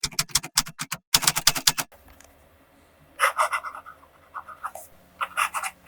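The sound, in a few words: fountain pen writing in a Portage reporter's notebook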